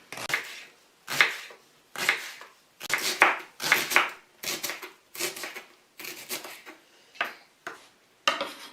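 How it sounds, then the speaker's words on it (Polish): A knife slices a washed leek, halved lengthwise, into half-rings on a board, about eleven crisp, evenly spaced chopping strokes close by with brief pauses between them and no voices. "I pokroję go w półkrążki"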